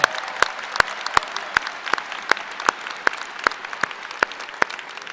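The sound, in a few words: audience clapping at high school graduation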